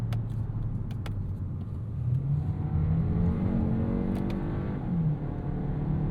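A 2026 Kia K4 Hatchback turbo compact with an automatic gearbox and paddle shifters pulls away, its quiet engine giving a steady, subdued hum that rises gently in pitch under road noise, with no talk.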